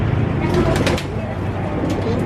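Pigeons in a racing pigeon loft give soft, low cooing close by, partly buried under a person talking nearby.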